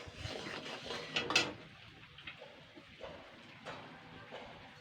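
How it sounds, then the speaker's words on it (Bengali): Mango pickle being stirred in a pan, soft scraping and a few clinks of a utensil against the pan, fairly faint and close, quieting toward the end. "তো এটাকে দিয়ে আমি একটুখানি সুন্দর করে নাড়াচাড়া করে নিচ্ছি।"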